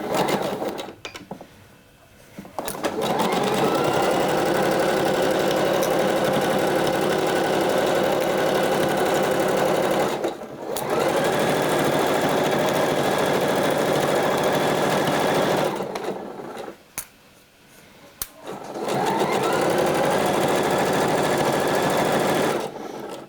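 A sewing machine stitches backstitches along a sweater seam in long continuous whirring runs, pausing briefly between passes, close and steady with no talking.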